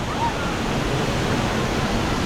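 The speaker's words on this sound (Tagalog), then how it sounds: "Lakas ng tubig oh." Water rushes continuously over Maranum Falls in Natividad, Pangasinan, a loud, close, steady roar that fills the scene with no break.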